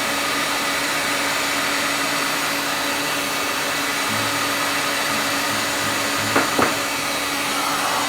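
A hot air rework tool blows a steady, even roar while heating the pins of an Arris MTA modem circuit board, with two brief clicks near the end.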